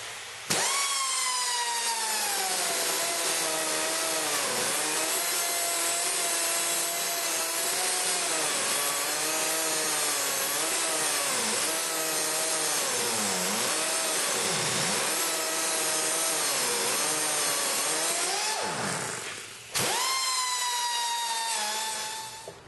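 A power tool cuts a channel into square steel stock with a continuous, loud, whining grind. It runs for about nineteen seconds with slight wavering in pitch, pauses briefly, then starts again.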